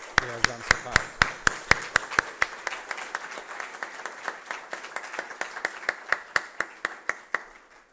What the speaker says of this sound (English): So I think he deserves from all of us a big applause, for whatever he has done so far.